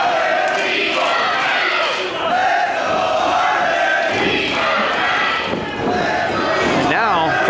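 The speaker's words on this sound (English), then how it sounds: "crowd seemingly split right now" Wrestling show crowd split in its support, a dense roar of cheers and shouts from the arena audience that rises and falls continuously, with a commentator talking over it.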